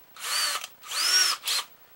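A power drill drilling 7/64 holes whirs in three short bursts, two longer and one brief, close up with a high whining tone and no voices.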